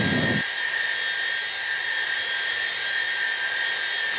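Tupolev Tu-154 jet engines in X-Plane 11, a loud steady high-pitched whine and roar that holds constant throughout, after a brief low rumble at the start.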